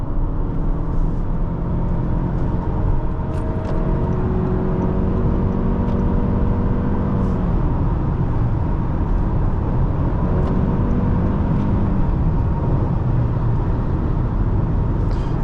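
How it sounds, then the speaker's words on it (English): A 2025 Toyota Camry XLE driving on a road, heard from inside as a steady engine hum with tones that climb and shift as it accelerates and changes gear over constant road noise. "It's easy to drive this car quickly."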